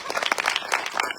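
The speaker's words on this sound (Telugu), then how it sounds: "మీరు చప్పట్లు కొడుతున్నారు" An audience claps briefly at a gathering, a short dense burst of applause lasting about a second.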